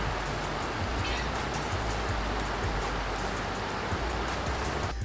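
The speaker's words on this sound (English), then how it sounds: "The water never stopping, endless," Water tumbles endlessly over rocks, a close, loud and unbroken roar of rushing flow that holds steady throughout with no voices.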